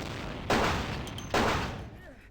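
Two loud, booming gunshots from incendiary rounds ring out in the video game Vampire: The Masquerade - Bloodlines, each one dying away in a short echoing tail.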